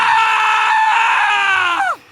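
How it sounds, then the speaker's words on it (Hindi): A loud, sustained scream effect in a horror story, one long shrill cry that holds steady for nearly two seconds before sliding down and cutting off. "असलम चिल्लाया।"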